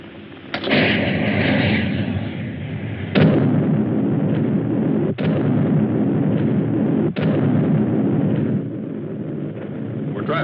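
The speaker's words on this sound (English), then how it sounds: "Fire again. Again and again. Nothing can stand against Trotanic missiles." Missiles firing in a 1954 science fiction film: a loud, continuous roaring blast broken by several sharp cracks spaced a couple of seconds apart, with no voices.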